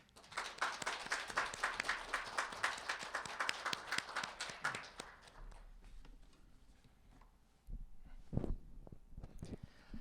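A burst of dense applause from a crowd at a legislative policy forum, loud at first and then fading out into scattered claps and room noise.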